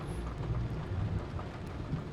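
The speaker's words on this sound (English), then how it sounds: "Showers and thunderstorms." Steady rain with low, rumbling thunder in the video game Nobody Wants to Die, forming a continuous, moderately loud storm bed with deep rolling swells and no voices.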